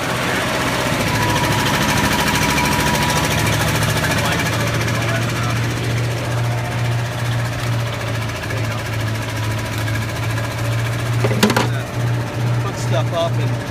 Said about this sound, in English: So you start the generator, and then you flip this switch over here.